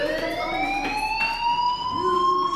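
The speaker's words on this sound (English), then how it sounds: "Hey, do you hear that fire alarm?" A school fire alarm sounds in the video game Life Is Strange. Loud, steady siren tones rise slowly in pitch and continue throughout without pause.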